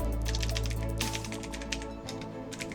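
Keys clatter on a computer keyboard as a command is typed into the Windows command line, a fast steady stream of close clicks with no talk.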